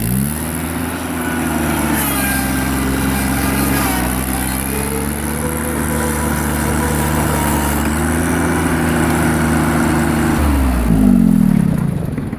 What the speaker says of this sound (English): Yeah, here's the F1145. Been using this a lot lately to mow all my customers' lawns.